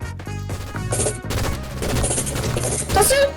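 Rapid gunfire fills a shooter video game match, with bursts of shots, sharp impacts and crashes overlapping one another, loud and close, while game sound effects ring out.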